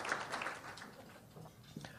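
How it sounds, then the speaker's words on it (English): Audience applause at a Philippine mining industry luncheon, a steady wash of clapping from a seated crowd that fills the whole stretch, with faint voices mixed in. "deserves a big round of applause for gathering us in these functions"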